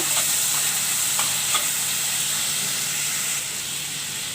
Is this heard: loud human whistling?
no